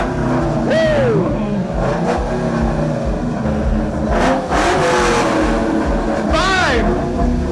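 A yellow Ford Mustang Mach 1 is revved hard in a revving contest at a car show, loud repeated rising and falling engine wails near the microphone, with a crowd cheering and a voice over the noise.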